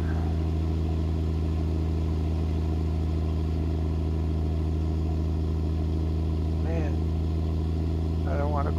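A heavy truck engine in American Truck Simulator, a Peterbilt 359 hauling a lowboy trailer, drones loudly and steadily while climbing a long grade, a constant deep low rumble with someone talking over it.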